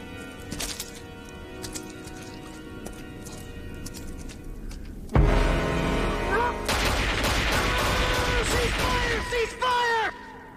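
Battle gunfire in a sci-fi war drama: a sudden loud blast followed by sustained heavy volleys and bursts with ringing tones, after a quieter stretch of background noise.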